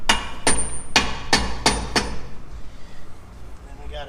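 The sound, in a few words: hammering bushings into a Henderson lift axle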